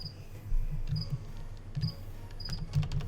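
A cricket chirps in short, repeated bursts at a steady rhythm, soft and fairly close against a quiet, low background hum.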